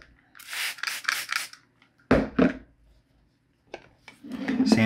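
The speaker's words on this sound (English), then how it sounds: "Cleaning the power cord up." A rag rubbing clean the power cord of an old GE clock radio, heard as several short, close scrubbing bursts separated by brief pauses, dry and raspy against the quiet room.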